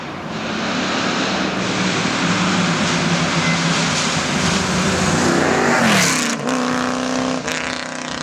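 A Shelby-powered Sunbeam Tiger V8 runs loud on straight pipes, a deep steady rumble that revs up sharply near the end and then settles back to idle.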